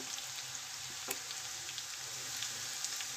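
Garlic frying in a home kitchen pan, a steady soft sizzle close by with a few brief clinks from stirring, no talk over it.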